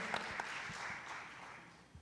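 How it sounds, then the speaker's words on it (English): An audience applauds a presenter at a national agribusiness summit with a soft, steady wash of clapping that fades slightly toward the end. "A round of applause for Daktari."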